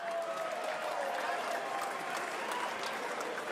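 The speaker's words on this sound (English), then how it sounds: "How about a round of applause for the fighters so far?" Crowd applause for the fighters at a live charity boxing event in a hall, a steady, fairly distant wash of clapping and murmur lasting a few seconds.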